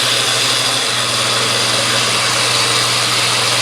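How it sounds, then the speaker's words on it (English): Blender grinding oats into flour, a loud continuous motor whir with a steady low hum and a dense grinding rasp, close and uninterrupted until an abrupt stop. "we're going to put our oats into the blender and blend until it looks totally fine"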